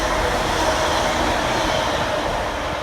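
A Class 195 train on a test run toward Wigan passes at Eccles, a loud, steady rush of wheels and rail noise filling the whole moment, close by.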